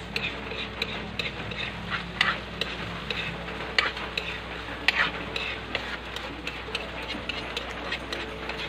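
Uyap cooked with egg stirred in a pan, soft scraping and light ticking taps of a utensil against the pan recurring throughout, close but fairly quiet over a faint background hiss.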